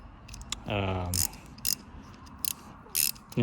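A through-shaft ratchet cranks while front springs go into a Subaru Crosstrek with Rallitek springs, giving close, crisp clicking in several short bursts separated by pauses.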